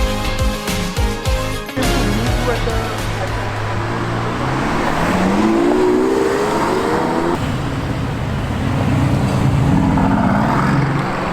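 A Lamborghini Aventador SVJ with a 6.5-liter V12 revs loudly and close by, with sharp blips at the start, then a sustained roar that rises and falls in pitch over roadside traffic.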